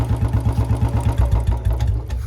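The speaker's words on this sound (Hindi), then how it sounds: "मैं फिलहाल डालता हूं अपनी बाइक का क्लिच दाबने के बाद पहले गियर में" Royal Enfield Bullet 350 single-cylinder engine idling close by with a steady, even thump, dropping slightly in pitch as the bike is clutched into first gear.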